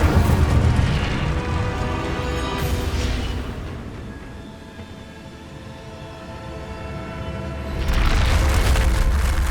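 The Incendio fire spell is cast in Hogwarts Legacy, giving a deep, booming whoosh of flame that swells, fades to a low rumble, then bursts loudly again near the end, with no talking.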